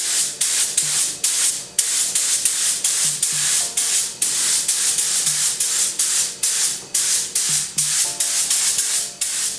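Clear coat sprayed onto a repaired plastic Porsche bumper at home: a spray gun giving repeated bursts of airy hiss in a regular on-off rhythm, close and fairly loud, with no talking.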